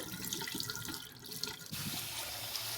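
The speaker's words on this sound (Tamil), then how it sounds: "இந்த தண்ணியை வடிச்சிடலாம் கீழே." Water from washed green gram being poured off and drained, a steady splashing, running flow into a sink, fairly quiet and close, with a brief lull before the stream resumes more fully.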